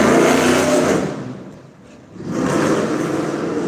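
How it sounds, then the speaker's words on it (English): A loud engine roars past nearby, fading briefly in the middle before another surge of revving motor noise returns. "Maybe somebody's lover got a motorcycle like loud like that."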